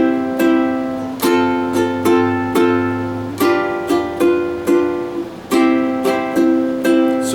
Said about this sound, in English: down, down, up, up with no connecting small U on the end of 4.